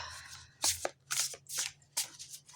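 Oracle and tarot cards being shuffled and pulled by hand, several quick riffling bursts close up in a quiet room, each a short papery flutter separated by brief pauses.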